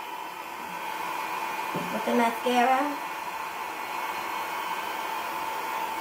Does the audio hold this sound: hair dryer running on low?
yes